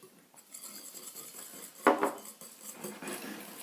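A sugar mixture for an easy apple tart is beaten in a bowl, giving quick scraping strokes and metallic clinks of utensil against bowl, with one louder clatter in the middle, close up and without talk.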